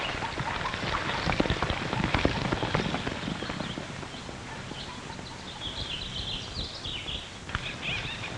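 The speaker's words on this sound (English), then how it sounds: "That could be the horse that outran us." A horse approaches with hooves clip-clopping over rough ground, close and irregular, mixed with scraping and a brief high whinny-like sound late in the clip.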